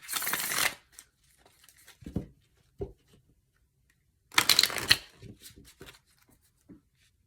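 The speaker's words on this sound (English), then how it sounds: "I'm going to pull a couple Message of Love Oracle cards" Oracle cards shuffled by hand in two bursts of crisp riffling and slapping, each followed by a few soft taps as the deck settles, close and fairly quiet with no talk.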